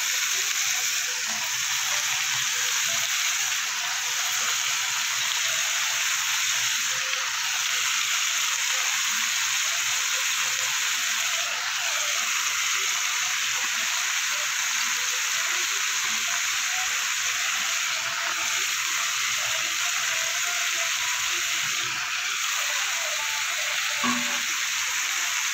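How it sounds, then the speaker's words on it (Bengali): Potato, eggplant and kulekhara greens fry in a pan, giving a continuous bright sizzle that holds steady and close, with faint stirring clinks now and then. "এবার আমি কেটে রাখা শাকগুলো দিয়ে দেবো।"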